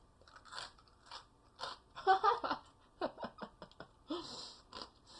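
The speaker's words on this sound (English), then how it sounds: "This crust is so crunchy." Crunchy lemon meringue pie crust is bitten and chewed, giving several sharp, close crackling bursts mixed with breathy laughter and voices.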